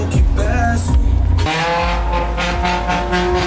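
A lowered car at a Brazilian car meet roars close by, with a loud throbbing exhaust that shifts abruptly into a higher sustained tone, set against crowd noise and chatter.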